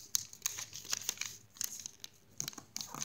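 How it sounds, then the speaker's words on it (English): Paper crinkles and creases as a sheet is folded into an origami five-pointed ninja star, with close, quiet rustles and sharp crackling taps coming in quick irregular bursts. "Fold this edge to that crease."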